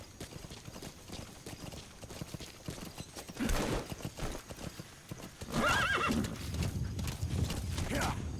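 In Metal Gear Solid V, a horse's hooves clip-clop steadily under a noisy game soundscape, and two shrill neighs rise out of it, the later one louder and closer.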